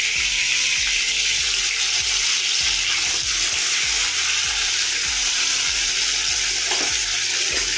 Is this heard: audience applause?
no